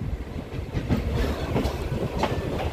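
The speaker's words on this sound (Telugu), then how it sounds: "నంబూరు నుండి మన ట్రైన్ అయితే బయలుదేరిపోయింది." A MEMU commuter train running between Nambur and Mangalagiri on the Guntur–Vijayawada line gives a loud, steady rumble heard from inside, with rhythmic clickety-clack of wheels over rail joints.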